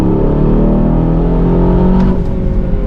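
An Aston Martin DBX 707 SUV accelerates at half throttle, a loud, steady engine drone rising smoothly in pitch from inside the cabin, with no talk.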